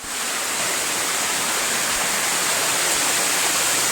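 Flood water rushes past in a dense, constant roar of broadband noise, loud and unbroken throughout with no voices.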